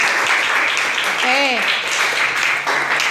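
Classroom applause from students in an Islamic religious education lesson: a dense, steady wash of clapping fills the whole stretch, with a voice rising briefly over it.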